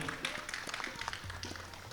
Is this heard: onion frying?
no